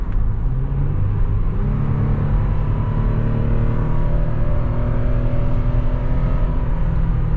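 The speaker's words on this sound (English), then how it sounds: "Once it drops down a gear, it picks up pretty good." Toyota 4Runner SUV accelerating to pass and kicking down a gear, a steady close interior engine drone that rises in pitch as revs climb after the downshift, with no talking over it.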